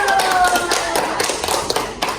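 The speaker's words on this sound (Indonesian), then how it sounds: "tepuk tangan dulu" Children clapping their hands together in a classroom, a dense, steady patter of many small claps with faint voices mixed in underneath.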